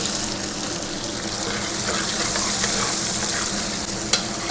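Ginger and curry leaves sizzle and crackle in hot oil for a Kerala salmon curry, a steady dense frying hiss with light stirring throughout and a brief sharp click near the end, with no voices.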